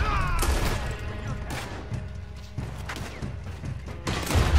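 Gunfire in Red Dead Redemption 2 during a shootout, several sharp, loud shots spread unevenly across the clip with thuds and clatter between them.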